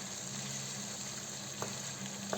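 Onion pieces stew gently in a pan with a soft, even sizzle, and a couple of brief scrapes come from a spoon stirring them.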